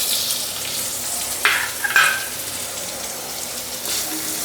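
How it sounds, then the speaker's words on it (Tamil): Sliced big onions, 100 grams, hit hot oil in a pan with garlic, giving a steady frying sizzle with a couple of brief clinks and stirring scrapes, alone and close. "அடுத்து வந்து 100 கிராம் பெரிய வெங்காயம் கட் பண்ணி எடுத்துருக்கேன், அது போட்டுக்கலாம்."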